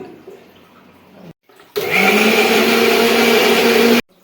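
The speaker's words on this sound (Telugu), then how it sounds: "మిక్సీ" A kitchen mixer grinder grinds green chillies and peanuts into chutney. A quieter whir comes first, then a short pause, then a loud, steady, high-pitched grinding roar for about two seconds that stops abruptly.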